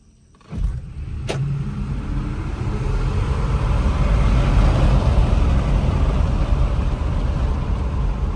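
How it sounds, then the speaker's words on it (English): A Polestar electric rental car pulls away from a stop: a brief click, then road and motor noise swells quickly and holds as a loud, steady rush heard from inside the cabin. No one speaks. "I'll just give you guys a quick look at the just the acceleration here from a stop"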